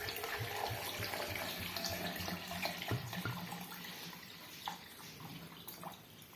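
Water pouring into an electric blender over cut lemons for homemade lemon juice, a steady close splashing stream that continues throughout.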